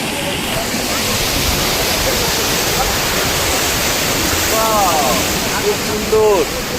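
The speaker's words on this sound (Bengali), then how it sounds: "খুব সুন্দর ঢেউ চলছে।" Sea waves break on the shore in a loud, continuous roar and wash. Faint voices come through near the end.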